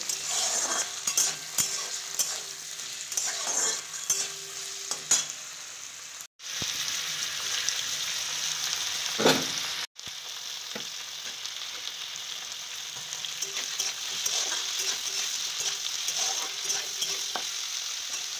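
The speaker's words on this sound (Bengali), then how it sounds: "তারপরে পেঁয়াজগুলোকে দিয়ে আর সবজি মানে ক্যাপসিকাম দিয়ে ভালো করে একটু ভেজে নিতে হবে।" Onions and capsicum frying in a pan with ginger-garlic paste and green chilli for chilli chicken, a long, steady, moderately quiet sizzle broken by scattered clinks and scrapes of stirring, with two brief sharp cuts in the sound.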